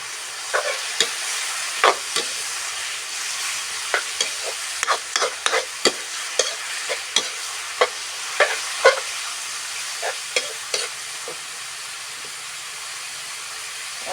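Glass noodles stir-fried in a hot pan, a soft background sizzle with many quick, crisp scraping and clacking strokes of a utensil in an irregular rhythm.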